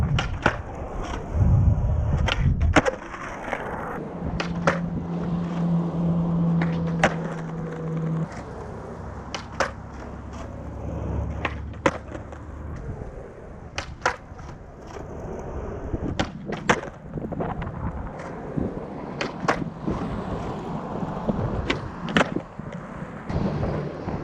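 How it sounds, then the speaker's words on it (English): Skateboard wheels clack and rattle over rocks, dirt and debris, with sharp irregular clicks and rolling rumbles, a few heavier impacts, heard close and without talk. "Every trick I'm going for, I hear the click clack of rocks going."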